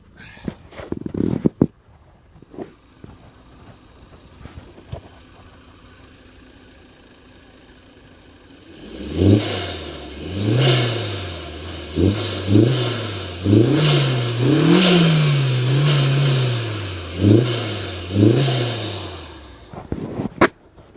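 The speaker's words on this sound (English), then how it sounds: "I'll rev it up here. It's got good revs." A 2002 VW Jetta 1.8T engine revs repeatedly, rising and falling in a series of throttle blips after a quieter start with some handling noise, heard from outside the car, fairly close and loud.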